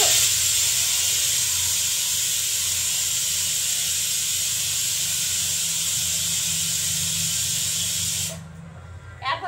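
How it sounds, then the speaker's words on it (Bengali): A new pressure cooker cooking potatoes lets off a loud, continuous hiss of escaping steam that holds steady for several seconds, then cuts off abruptly near the end. "আর নতুন প্রেসার কুকার তো আমি বুঝতেও পারবো না যে কতগুলো সিটি দেবো না দেবো"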